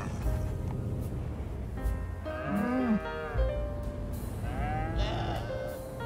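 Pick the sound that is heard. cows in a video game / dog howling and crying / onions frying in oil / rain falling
cows in a video game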